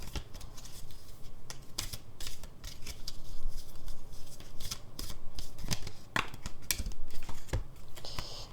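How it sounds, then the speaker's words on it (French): Angel oracle cards being drawn and shuffled by hand, a busy run of crisp papery flicks and snaps at an uneven rhythm, close and fairly loud, with no talking. "on va prendre quelques cartes des anges de l'abondance pour finir"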